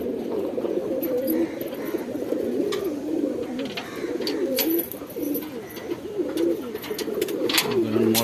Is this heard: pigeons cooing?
yes